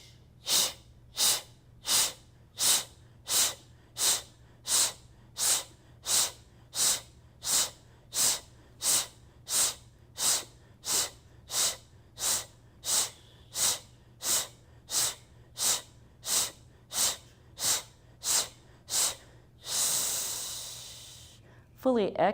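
Repeated sharp exhalations forced through pursed lips during a gentle yoga breathing exercise, about two per second for twenty seconds, close and loud, ending in one longer sustained breath out.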